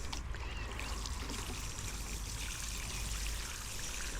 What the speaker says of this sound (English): all I'm going to do is just water it in.